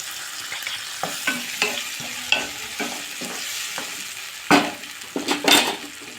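Chopped tomatoes simmer and sizzle in a pan while cooking down for a pasta sauce, with soft bubbling under intermittent spoon stirs and metallic scrapes against the pan, close by.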